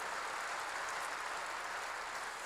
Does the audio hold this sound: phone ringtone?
no